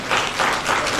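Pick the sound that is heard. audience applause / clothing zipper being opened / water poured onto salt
audience applause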